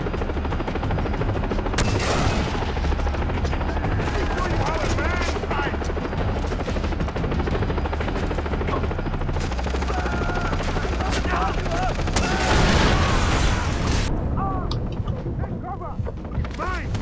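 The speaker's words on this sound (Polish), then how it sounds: "Helikopter." Helicopter in the video game Far Cry 3, a continuous rotor drone mixed with heavy bursts of gunfire and explosions, loud and busy throughout, with a voice talking over the action.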